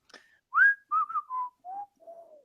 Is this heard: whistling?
yes